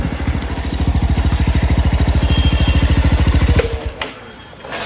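A Jawa 400 cc motorcycle engine runs steadily with a fast, even pulsing thump, loud and close, before the revs drop and the sound loosens near the end.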